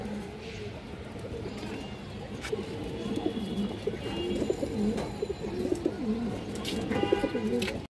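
A pair of Bagha-breed pigeons coos softly and repeatedly, low rumbling calls rising and falling over steady background noise, with no talking.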